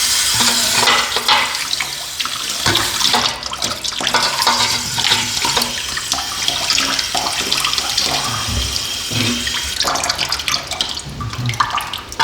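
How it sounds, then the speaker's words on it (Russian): A poultry drinker is washed under running tap water: close splashing and gurgling flow, broken by scrubbing, sloshing and light knocks of the container throughout. "Поилку надо вымыть, чтобы была чистая тут."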